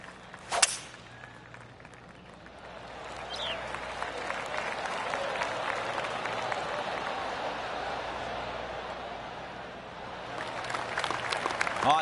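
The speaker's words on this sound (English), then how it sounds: "I can hear the golf claps around the course" Golf claps spread around the course in PGA 2K25, a sharp club strike followed by a swelling wash of polite applause that fades and rises again, with no talk.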